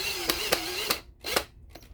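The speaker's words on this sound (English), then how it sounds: "For expediency here, I'm just going to use a power drill." Power drill driving a part into a Daisy Model 111B lever-action BB gun during repair, several short whirring bursts with brief pauses between them, close up and alone.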